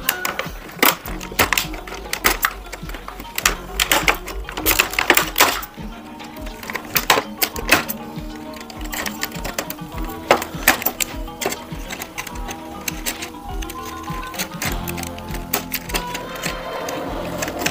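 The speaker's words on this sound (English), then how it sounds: "I got some scissors. We're just going to cut these." Repeated sharp snips and clicks of scissors cutting through small plastic ties, irregular and close, with handling rattles between cuts.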